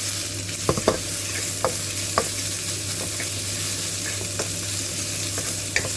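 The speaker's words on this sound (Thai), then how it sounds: "แล้วก็ผัดกริกแกงกับหมูให้เข้ากัน" Pork and red curry paste being stir-fried in a pan, a steady sizzle under scattered sharp scrapes and taps of a utensil against the pan, with no talking.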